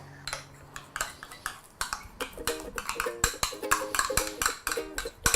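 A spoon clinks and scrapes against a bowl while stirring homemade sidewalk chalk paste, sharp irregular metallic taps and scrapes close up and fairly loud, with no one speaking.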